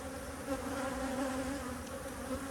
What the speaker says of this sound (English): I'm going to shake the bees down.